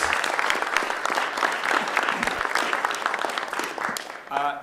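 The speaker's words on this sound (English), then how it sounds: "let's just give one more round of applause to all the candidates for these questions." Audience applause at a student-government forum for Burlington mayoral candidates, a dense, steady clapping from a room full of people that holds for several seconds before tapering off.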